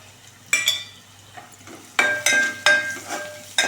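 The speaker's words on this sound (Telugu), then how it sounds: "ఎక్కువ ఫ్రై చేసుకోకండి ఉల్లిగడ్డని, ఇలా మీడియం ఫ్రై అయితే సరిపోతుంది మనకు." Onion with coriander leaves, chilli powder, salt and turmeric frying in a pan, heard as several distinct bursts of scraping stirs over a quiet sizzle, close and fairly loud, no talking.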